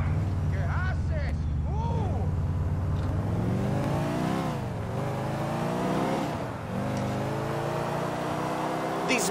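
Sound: car driving in GTA 4 video game

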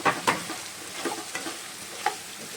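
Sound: potato pieces frying and being stirred in a pan

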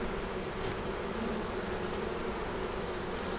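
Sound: honeybees in a hive being inspected

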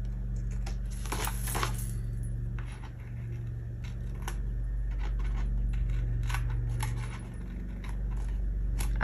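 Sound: slicing paper for a planner

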